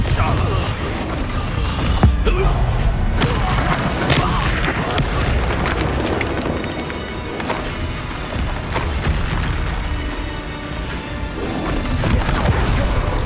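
Confringo blasting spells going off in combat in Hogwarts Legacy, dense repeated crashing booms and thuds over a continuous loud rumble of game effects, with no clear talk.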